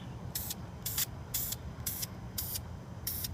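A spray paint can fires six short, evenly spaced hissing bursts at a mason jar, each about a quarter second long. No one speaks.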